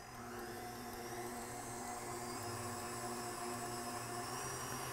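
Brownie batter is whipped with what sounds like an electric mixer, a steady, fairly loud motor whir that runs evenly throughout with no talking.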